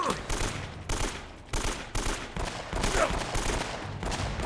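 Dense, rapid gunfire fills a shootout in Uncharted: Drake's Fortune, with overlapping bursts of automatic weapons including an AK-47, loud and sustained with brief gaps between volleys.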